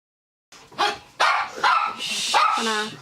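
A dog barks loudly and close in a rapid burst of several yips and barks, ending in a whining, drawn-out bark, heard alone with no talk.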